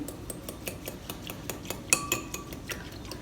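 A whisk stirs a milky coffee mixture in a cup, making quick, rhythmic clinks and light taps against the sides. The sound is close and quiet, with no speech.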